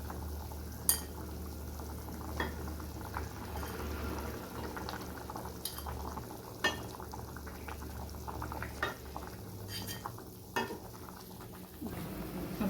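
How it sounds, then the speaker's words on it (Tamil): Egg paniyaram curry with ginger and garlic boiling steadily in a pot, a continuous bubbling simmer with occasional louder pops and ticks, close and moderately loud with no talk. "நல்லா குழம்பு கொதிக்குது."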